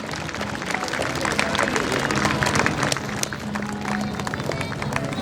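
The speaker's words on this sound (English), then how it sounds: "Audience, please keep clapping." An audience at a school annual day awards ceremony keeps up dense, steady applause, with crowd noise and voices mixed into the clapping throughout.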